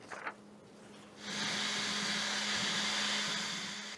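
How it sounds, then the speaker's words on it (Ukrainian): A 3D printer running in a small home workshop set up in an apartment, printing souvenirs: a steady, loud broadband whir that starts abruptly after a second of quieter room tone, then holds constant with a low hum beneath. "Принтер працює цілими днями і часом навіть уночі"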